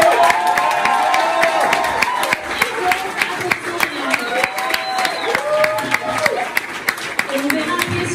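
Audience at an ecologist primary campaign rally for Eric Piolle, scattered claps and crowd noise rising among raised voices and background sound, with sharp hand claps punctuating throughout.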